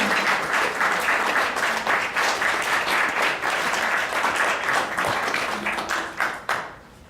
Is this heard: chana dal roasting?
no